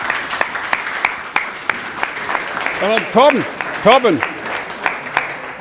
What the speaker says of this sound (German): Wir spenden mal einen Applaus für die Jungs, die jetzt noch hier Nachtschicht einlegen müssen